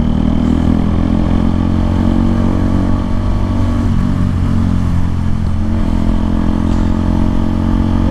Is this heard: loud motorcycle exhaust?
yes